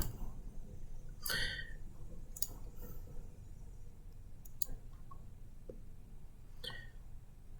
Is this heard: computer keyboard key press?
yes